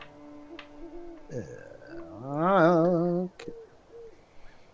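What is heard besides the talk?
owl hooting in the distance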